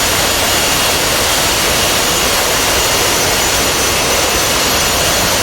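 A jet aircraft in a combat flight game roars at full power for takeoff, a loud, dense, unbroken rush of engine noise with no voices over it.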